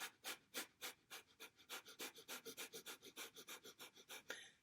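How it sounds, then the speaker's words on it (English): Breath of fire, a rapid forceful breathing exercise: about two dozen quick, sharp, evenly paced exhalations huffed through the nose, close and fairly soft, with no talk. "And we do the breath of fire again."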